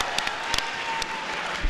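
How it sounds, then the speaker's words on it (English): A short burst of applause from a crowd, scattered claps over a dense wash of clapping, with no one speaking. "Hey, a round of applause."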